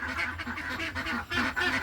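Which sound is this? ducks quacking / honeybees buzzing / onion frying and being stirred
ducks quacking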